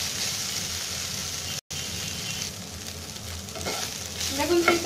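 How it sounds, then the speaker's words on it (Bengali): Chicken pieces fry in hot oil in a pan, giving a continuous close sizzle that swells and crackles more near the end, with no talking. "চিকেনটা আমার হয়ে এসেছে, এটাকে আর একটু ফ্রাই করে আমি তুলে নিব।"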